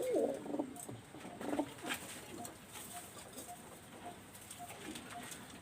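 Pigeons coo in a loft where the birds are sitting on eggs and chicks, with low murmuring coos near the start and more scattered calls and rustling afterward, moderately close.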